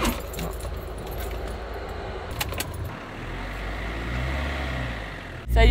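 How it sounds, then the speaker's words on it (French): An old camper van's engine cranks and catches, then runs with a steady low rumble that swells as it accelerates, with some jangling and clatter over the top and a loud burst at the very end. "il a démarré et rien que là, quand j'accélère, il n'y a plus le bruit de turbo"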